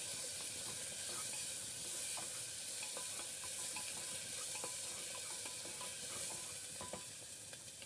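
Onions frying and being stirred in a pan, with ginger and garlic already added, while cooking a sour soup: a steady close sizzle runs throughout, with scattered small scraping and clinking stirs.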